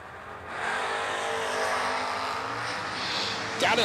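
Drag race cars launching side by side down a drag strip, a loud sustained engine roar that holds steady for several seconds, with a sharp burst at the very end.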